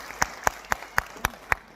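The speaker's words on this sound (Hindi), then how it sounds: "इसके लिए हम जोरदार ताली चाहेंगे आप लोगों से" Six separate, evenly spaced sharp claps, roughly one every quarter second, from an audience at a Hindi-speaking network marketing talk, fairly faint and with no voices over them.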